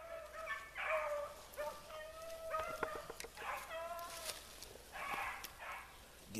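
Hunting dogs on a rabbit hunt give tonal baying calls in repeated bursts, fairly faint and distant, with short pauses between the cries and no voices.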